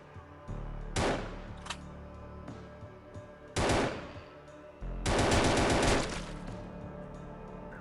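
Bursts of automatic gunfire from the zombie-shooting mobile game Outbreak Dead City, three loud volleys with the last one longest, separated by quieter game ambience.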